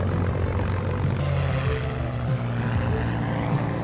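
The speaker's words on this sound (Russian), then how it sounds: "Уволенные из армии в запас бипланы продолжили летную жизнь под новым именем По-2" A Po-2 biplane flying, its propeller engine giving a steady, loud droning hum that holds without a break, with no voices.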